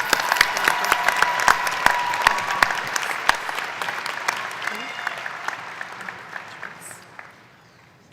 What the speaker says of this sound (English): How about another round of applause for our education graduates?